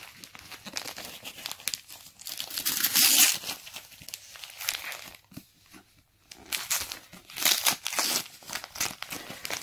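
Wrapping paper crinkles and tears as a gift book is unwrapped after Christmas, with steady close rustling and crumpling that swells into louder ripping bursts, and no talking.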